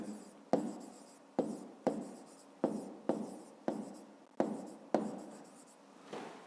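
A maths solution being written out by hand, about nine separate pen strokes, each beginning with a sharp scratch and trailing off, steady and close in a quiet room with no talking.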